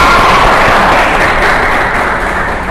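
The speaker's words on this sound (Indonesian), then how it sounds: "tepuk tangan nih buat Kak Retno." Audience applause from a small group, a brief dense burst of clapping that stays loud and steady for a few seconds with no talking over it.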